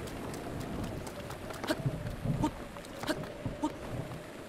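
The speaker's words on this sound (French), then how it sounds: "C'est vrai qu'il pleut." Rain falling in The Legend of Zelda: Breath of the Wild, a soft continuous hiss with scattered louder droplet taps and faint low rumbles, quiet and steady without speech.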